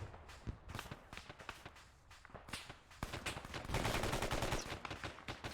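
Sniper and other gunfire in a military video game, with sharp repeated shots and bursts scattered across the scene at varying distances, some close and loud, over background battle noise.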